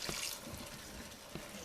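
Water runs gently from a tap or jug into a stuffed mushroom tajine with minced meat, a steady close splashing pour that carries on without a break.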